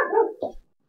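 A dog gives one quick bark with a short follow-up yelp, close and loud, then silence.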